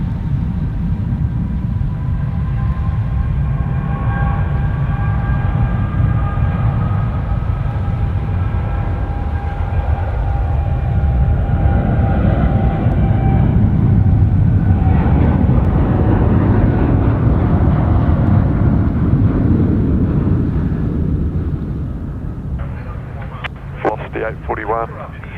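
A Jetstar airliner at Sydney Airport roars loud and steady for the whole stretch, with a whining engine tone that swells and then fades. A voice talks faintly underneath.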